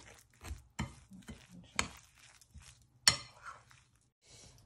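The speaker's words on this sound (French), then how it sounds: "On va pouvoir tout mélanger." A spoon stirs chicken marinade ingredients and spices together in a dish, giving soft, irregular scrapes and light clinks against the bowl. One sharper clink stands out. The sounds are close but faint, with a low background hum.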